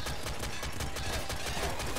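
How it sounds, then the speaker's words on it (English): Rapid automatic fire from a frost assault rifle in the Nuclear Throne Ultra Mod video game, steady bursts of gunshots repeating across the whole stretch at a constant loud level with no talking. "this assault rifle, the frost one, for its level is like incredible"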